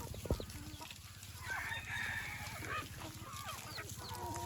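A rooster on a chicken farm gives one drawn-out crow lasting about a second and a half, fairly faint and somewhat distant, over steady clucking, background farm noise and a low mechanical hum.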